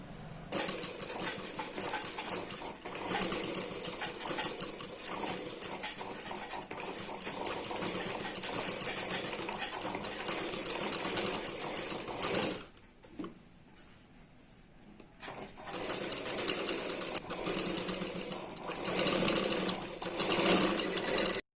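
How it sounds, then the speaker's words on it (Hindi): A sewing machine stitches fabric for a blouse neckline, a fast, steady mechanical chatter running for long stretches, pausing briefly to near silence in the middle before starting up again, with no speech. "अब हमें इसके बाजू में सिलाई लगा के लेना है।"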